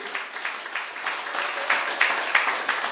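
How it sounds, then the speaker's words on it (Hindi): A church congregation claps along during a Hindi sermon, a steady wash of many hands with rhythmic surges every fraction of a second, moderately close and continuous throughout. "जोर से ताली नहीं बजाओगे?"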